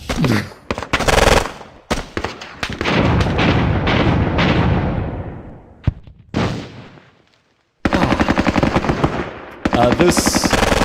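Sustained bursts of medium machine gun fire with explosions and artillery in the Squad Battles Eagles Strike war game, loud rapid rattling volleys broken by brief gaps and a short near-silence before the firing resumes.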